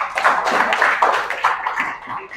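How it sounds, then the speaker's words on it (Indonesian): A small group claps for the mothers at a school teaching session, a short, uneven burst of hand claps heard close and fairly loud, with no talk over it. "Tepuk tangan untuk ibu-ibu yang luar biasa."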